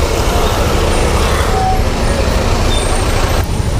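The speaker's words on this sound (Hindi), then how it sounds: "और बहुत ट्रैफिक बहुत ज़्यादा हो रहा है अभी" Heavy traffic rumbles along a national highway in Aizawl, with buses and trucks passing close by in a loud, continuous roar, a faint brake hiss and light voices buried beneath.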